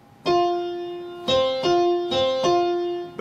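A piano plays the opening of a familiar railroad folk tune as rising and falling perfect fourths, five clear struck notes with sustained ringing tones, close and alone without talk.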